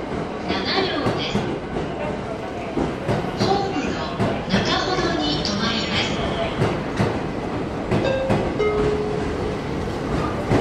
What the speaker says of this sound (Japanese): 寝台特急サンライズ出雲91号出雲市駅に到着しております